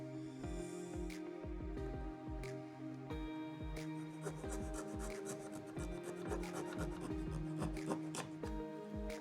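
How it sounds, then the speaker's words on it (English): Model truss rafters being cut at a 24-degree angle in a hand miter box: steady, rapid back-and-forth saw strokes rasp close by without pause for the whole stretch, with no talking. "Now I can cut them. I'm going to use the 24-degree angle on my miter box."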